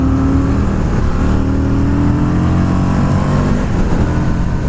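A 2020 Indian FTR 1200 motorcycle accelerates hard, its engine note climbing steadily in pitch over several seconds, loud and close to the rider, with no talking.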